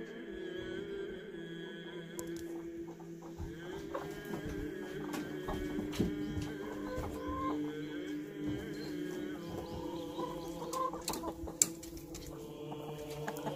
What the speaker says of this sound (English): Hello, all you chickens.